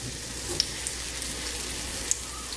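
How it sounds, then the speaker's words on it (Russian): Meat cutlets sizzling in heated vegetable oil in a frying pan over medium-high heat, a soft steady crackle with a few sharp pops, heard alone without talk. "И отправляем на сковородку, разогретую с растительным маслом. И обжариваем до золотистой корочки."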